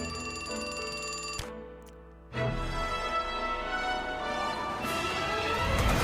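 An old-style telephone bell rings in a video game gacha summon animation, a bright rapid ringing that breaks off abruptly partway through and is followed by a whoosh and a swelling, shimmering musical effect.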